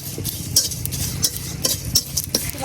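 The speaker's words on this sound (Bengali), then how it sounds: "এখন দিয়ে দিতেছি কয়েকটা সাদা এলাচ আর একটু দারচিনি দিয়ে এটা একটু ভাজা নিলাম।" Whole spices of bay leaves, cloves, green cardamom and cinnamon fry in oil in a wok, giving soft sizzling under repeated bright metallic scrapes and clinks of a spatula against the pan, close and without talk.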